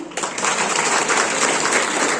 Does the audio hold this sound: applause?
yes